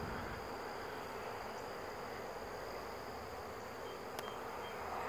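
A swarm of honey bees buzzes at the end of the year, a faint, dense and even hum heard from a distance, steady throughout with a brief high tick near the end and no speech.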